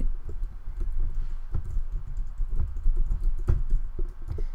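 Someone types on a computer keyboard in quick, irregular bursts of clicking keystrokes, close and fairly quiet, while entering DNS name server entries during website setup.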